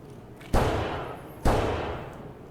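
Two sharp video game gunshots, each a loud sudden crack followed by a slowly fading tail, about a second apart, otherwise quiet.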